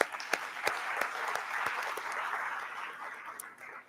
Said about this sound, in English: let's give them all applause